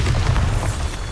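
A Bombarda blast spell goes off in Hogwarts Legacy, a loud, close, low booming burst with a rumbling tail that fills the short moment on its own.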